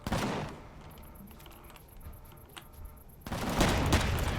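Turret gunfire in the space survival game Empyrion Galactic Survival: a loud, rough burst, then a quieter stretch with faint electronic beeping, before the heavy firing resumes and builds.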